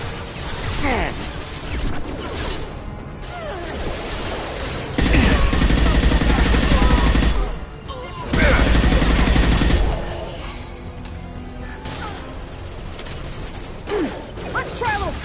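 Bursts of video game gunfire in a hostile combat zone, with a dense, loud sustained stretch of firing in the middle, set against mechanical clatter and game ambience.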